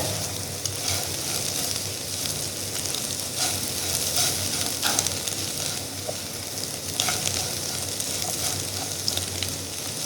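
Clam meat fries in a pan with curry leaves and pepper, a steady, dense sizzle up close and fairly loud, with occasional stirring scrapes and pops throughout.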